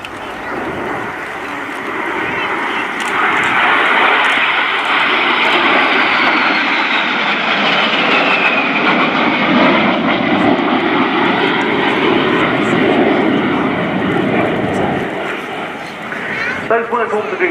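A Norwegian Air Force Historical Squadron de Havilland Vampire jet flies past at the RIAT 2018 airshow, its engine roar swelling loud and steady with a sweeping pitch shift before fading slightly at the end.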